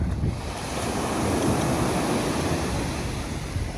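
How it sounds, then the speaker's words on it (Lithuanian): Strong surf crashes and churns on a beach at Alanya, Turkey, under gusty wind that buffets the microphone, a loud, continuous roar with no talking. "bangelės tai žiaurinės."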